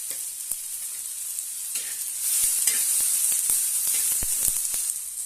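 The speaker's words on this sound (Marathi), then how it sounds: "आता आपण यामध्ये अर्धा चमच जिरे घालूया" Cumin seeds sizzle in hot oil for a spicy tomato thecha, a steady bright frying hiss that swells midway, scattered small pops and crackles, close and with no voices.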